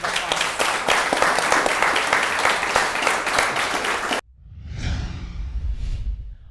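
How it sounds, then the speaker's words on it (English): An audience at a professional meetup gives panelists a dense round of applause for about four seconds, which cuts off abruptly and is followed by a soft whooshing sweep. "Can we give the panelists a huge round of applause?"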